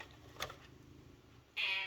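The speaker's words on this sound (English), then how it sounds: "he'll just sit there and meow at me like that while I do a live stream" A pet cat gives a single short meow near the end, close and fairly clear over a quiet indoor background hum, with no talking.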